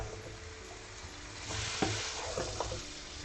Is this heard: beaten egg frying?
yes